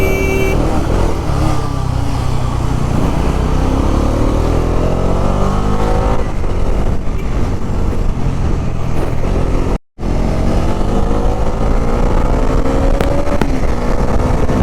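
KTM Duke 250 and 400 motorcycles race side by side, their engines roaring loudly and continuously with rising revs, cut by a brief dropout near the end.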